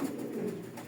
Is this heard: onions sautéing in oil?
no